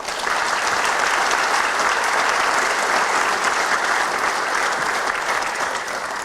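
Sustained, loud applause from a large crowd at a hall of fame induction ceremony honoring a wrestling inductee, an even, dense wall of clapping holding steady throughout.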